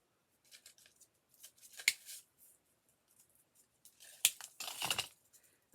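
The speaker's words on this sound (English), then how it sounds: "So I'm going to cut these little blue things off because we don't want them." Scissors snip small blue decorative pieces off a holiday craft item, giving scattered close clicks and crinkly rustles with a few louder cuts and a longer rustling burst near the end, no speech.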